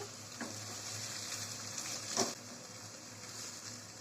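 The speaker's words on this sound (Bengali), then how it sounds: "টমেটোটা পেঁয়াজের সঙ্গে হালকা একটু ভেজে নিচ্ছে" Cut tomato frying with onion for a minced meat, potato and pea curry, a soft, steady sizzle at low level with a couple of faint stirring knocks.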